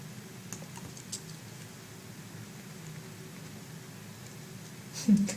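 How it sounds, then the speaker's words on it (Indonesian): Typing on a computer keyboard during an online investment-analysis class, quick soft key clicks spread over a steady hiss, with a brief louder burst near the end. "siapa lagi nih yang ngetik?"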